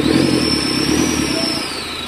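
A turbocharged car engine runs steadily at idle, close and loud, with a constant mechanical drone and a thin high whine over it that fades near the end; no one speaks.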